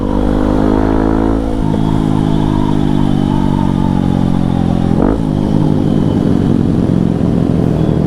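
A Kawasaki KLX motorcycle's exhaust rumbles loudly and close on a cold day, holding a steady low drone with two brief blips of throttle.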